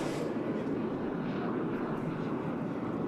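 A jet combat aircraft roars steadily at an airshow display while flying maneuvers such as half Cuban eights, a broad continuous engine rumble with no break.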